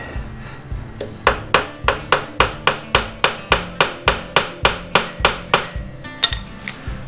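A T40 Torx bit is hammered into a motorcycle bolt on a Yamaha Bolt bobber. About eighteen sharp metallic blows land in a steady, close rhythm, then a few lighter taps follow.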